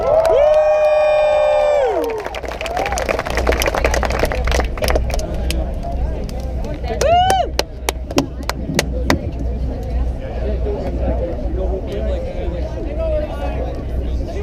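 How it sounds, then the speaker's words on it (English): Crowd cheering and applause at a Chicago Red Stars fan event, a loud burst of shouting and clapping that gives way to ongoing crowd chatter, with voices talking over it. "So give them a big round of applause."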